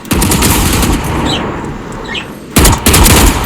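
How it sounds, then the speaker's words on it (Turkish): Gunfire in Valorant as a magazine is emptied, with loud rapid bursts of automatic shots, a brief lull with faint metallic clinks, then more sharp bursts close up. "Şarjörün hepsini nişan almadan hedefe sık"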